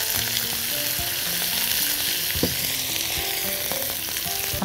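A garlic mixture fries loudly in a pan for spicy smoked kofta, a dense constant sizzle with occasional light stirring scrapes and clinks, close up and without speech.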